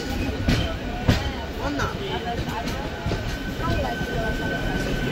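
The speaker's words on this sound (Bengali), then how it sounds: "5 মিনিট ট্রেন দাঁড়িয়ে ছাড়লো ট্রেন খড়গপুর জংশন স্টেশন" Rupasi Bangla Express rolls on past Kharagpur Junction, a continuous dense rumble of wheels and carriage rattle with a few sharp clacks, heard from inside the train with faint voices beneath.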